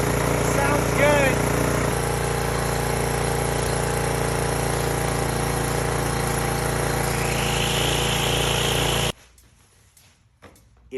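A Toro string mower's small engine runs steadily and loudly close by for about nine seconds, with a rising whine midway, then cuts off abruptly into near quiet.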